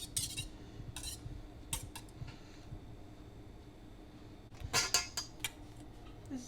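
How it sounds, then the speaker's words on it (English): A spoon stirs waffle batter mixed with lemon juice in a bowl, giving soft scraping and a few brief clinks against the bowl, quiet and close, with no talking. "Lightly stir that back together."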